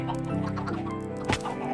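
Minecraft chickens clucking in a short burst of repeated clucks over steady game background sound, fairly close and moderately loud, with no talking.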